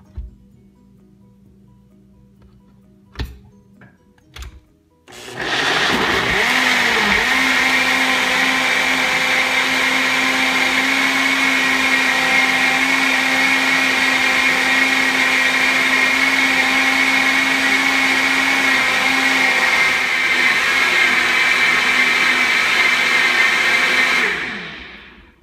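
A few clicks and knocks, then a NutriBullet RX blender with a 45-ounce canister whirs loudly with a steady high whine for about twenty seconds before cutting off.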